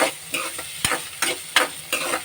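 Onions and tomatoes sautéing in a pan for an egg stir-fry give a steady sizzle, broken by about five quick scraping stir strokes at a slow, even rhythm, close and alone with no talking.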